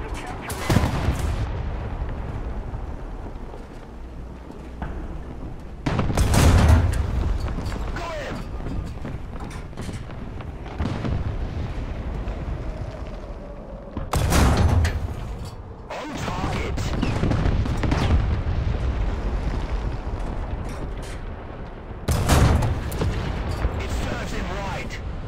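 Heavy explosions and gunfire crash through a War Thunder-style tank battle, with repeated loud blasts of an artillery barrage breaking over a continuous rumble of engine and combat noise while a voice talks in the middle.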